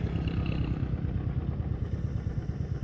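Motorcycle engine running on a ride out of Nagdhunga toward Jomsom in Nepal, a steady mid-pitched drone with rattling clatter and occasional thuds from the road, close and continuous.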